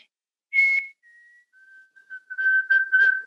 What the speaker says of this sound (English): It is a chickadee of some kind, right?